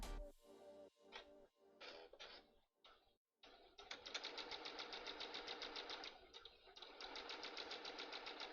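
A sewing machine tacks double fold bias tape onto fabric. Several short starts and stops come first, then a steady, rapid stitching rattle runs for several seconds, close and fairly quiet.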